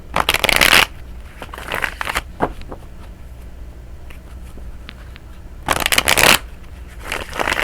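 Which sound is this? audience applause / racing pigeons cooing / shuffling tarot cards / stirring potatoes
shuffling tarot cards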